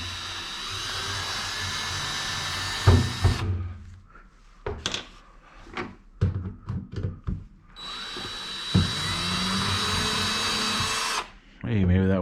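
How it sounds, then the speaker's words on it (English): A power drill removes screws in two long whirring runs, close and loud, with short clicks and handling knocks between them and a person talking. "Let's go ahead and take these screws off."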